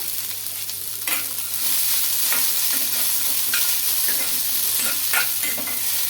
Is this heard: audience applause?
no